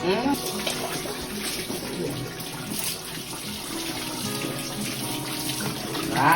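Continuous rushing and splashing water, loud and close, flowing steadily throughout with faint voices mixed in.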